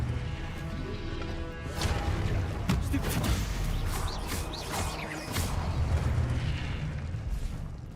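Stupefy spell cast in Hogwarts Legacy, a burst of crashing, booming magical impacts with sharp blasts around the middle, amid continuous loud combat noise.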